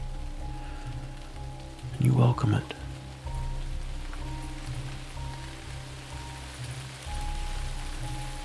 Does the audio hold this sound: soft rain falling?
yes